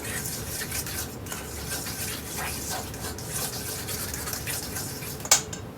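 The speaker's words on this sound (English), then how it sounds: "Get that in there. Give it a quick mix." Deviled egg filling with garlic powder, black pepper and salt being stirred in a bowl, a steady scraping and mixing sound with soft clinks of a utensil and one sharp tap near the end.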